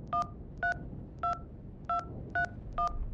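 A telephone number being dialed in the game HitchHiker: six crisp touch-tone beeps, evenly spaced and clear, over a faint low hum.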